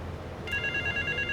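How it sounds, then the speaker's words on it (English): A payphone ringing in Grand Theft Auto 3, a sudden electronic ring tone starting partway in and holding steady over low game background. "it's a bit weird that a phone vibrates like that when it's a payphone"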